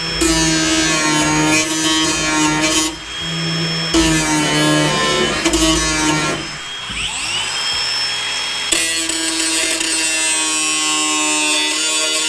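Power tool cutting rusted body metal out of a Toyota TA22 Celica, a loud, close, grinding whine that runs through most of the stretch, briefly dipping and changing pitch before resuming steadily, with no talking.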